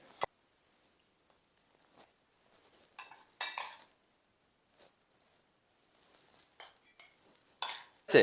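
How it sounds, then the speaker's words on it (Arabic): A metal spoon clinks and scrapes against a glass jar while eggplant and stuffing for makdous are packed in, scattered light taps and scoops separated by quiet pauses, close and fairly soft. "طبعا اضيف شويه من الباذنجان وشويه من الحشوه"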